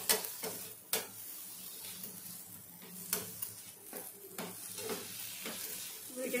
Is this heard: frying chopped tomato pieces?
yes